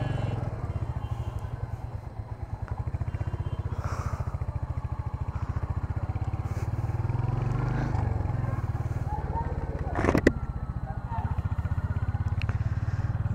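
Close, steady engine thump of a Royal Enfield Hunter 350 being ridden at dusk, a continuous pulsing drone with a brief sharp clatter near the end and occasional speech on top.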